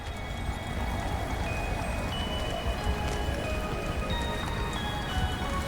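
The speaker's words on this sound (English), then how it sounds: "Hail's probably not the right weather to be trying this." Hail pelting down in the snowy outdoor weather of the video game Subnautica: Below Zero, a steady dense patter of pellets striking surfaces that holds at an even level throughout with no voices.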